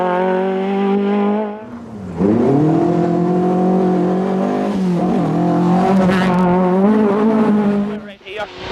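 A rear-wheel drive Peugeot rally car on a 1998 Sligo stages event roars past with a loud, steady engine note that briefly dips, then climbs through the gears, with a faint tyre squeal and commentary voices underneath.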